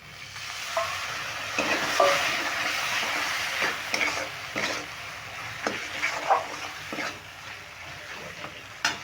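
Vegetables fry in a pan for a vegetarian elephant-foot-yam stalk and chickpea dish, with a little water just added to the spices. There is a steady loud sizzle, and stirring scrapes come through it every second or so.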